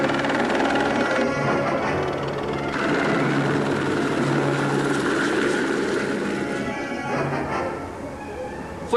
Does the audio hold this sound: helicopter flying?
yes